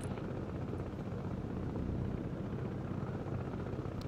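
A helicopter flies in the video game Broken Arrow, a steady low rotor drone with whooshing rumble, fairly faint and constant across the whole stretch with no voices over it.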